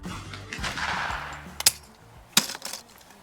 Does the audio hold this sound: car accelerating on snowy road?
no